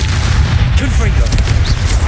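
A Confringo fire spell from Hogwarts Legacy, played on PC, bursts as a loud, dense boom over a constant roar of battle noise, with brief zaps and swooshes flickering through the blast.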